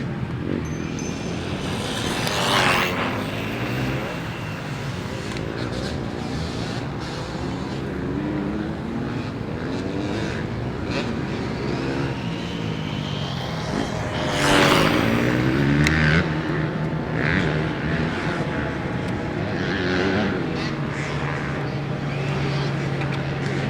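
A small motor whines at high pitch as a fast RLAARLO AM-X12 RC car races past twice, rising and falling against steady outdoor background noise.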